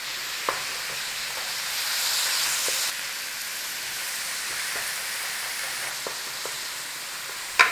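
Beef mince frying in a pan, a steady close sizzle with occasional clicks and taps of a utensil breaking it up, no voices.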